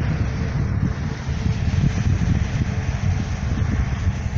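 Strong wind gusts across a high mountain ridge in the Serra of Cunha, a steady low roar buffeting the microphone with no voices.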